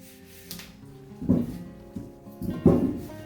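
A cloth rubbing over a painted iron cookbook holder gives a few short squeaks, two stronger ones about a second apart, close and fairly quiet.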